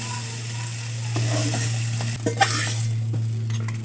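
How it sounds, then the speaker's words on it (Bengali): Small field shrimp fry in a pan with a steady, loud broadband sizzle, broken by a few scraping stirs and spatula knocks near the middle. "তো চিংড়ি মাছটা আমার ভাজা ভাজা হয়ে গেছে"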